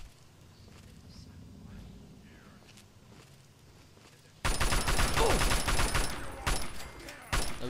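Loud, dense bursts of gunfire in the video game Fallout 3 erupt suddenly after a quiet stretch of soft footsteps, continuing as a rapid, sustained volley until the end.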